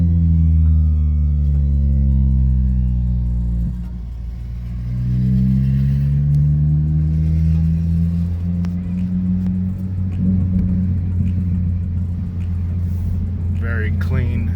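A Toyota Matrix with a 2ZZ engine accelerates on a test drive, engine pitch climbing through gear changes with dips between shifts, steady road rumble beneath, no speech.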